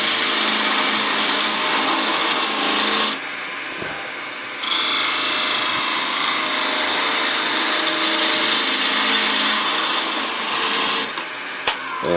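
Skew chisel riding the bevel to clean up a cut on spinning wood on a lathe, a loud continuous hissing, scraping whir with a short dip partway through and a sharp tick near the end.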